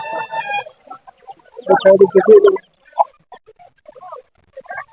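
Chickens for sale at a rural fair in Purulia cluck in short loud bursts with pauses between, close by, and a rooster-like cackle comes at the start.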